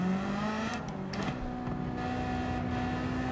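An engine-swapped race car in Gran Turismo 7 hums and whines steadily, pitch shifting as it revs and changes gear, moderately loud with no talking.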